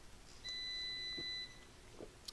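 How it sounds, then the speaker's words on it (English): A single faint electronic beep holds for about a second in a quiet room, a steady high tone over low background noise. "I apologize that beeping in the background."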